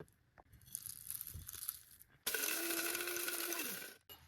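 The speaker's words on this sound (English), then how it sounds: "Now grind all spices together," An electric spice grinder whirs loudly for under two seconds as it blends whole spices, cinnamon sticks, citric acid and roasted spices among them, after softer rattling and clinking of the spices being loaded.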